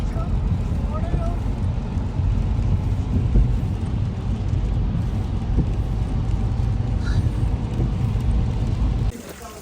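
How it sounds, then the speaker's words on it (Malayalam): Heavy rain pours down in Dubai outside a relative's house, a dense, steady roaring hiss that fills the whole clip at close range before cutting off abruptly near the end. "ഇവിടെ കിടിലം മഴയാണ്"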